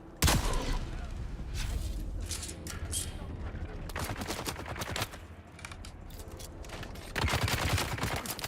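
Gunshots in Dune: Awakening, rapid bursts of fire crackling over a busy, noisy game backdrop, fairly steady with louder clusters near the start and end.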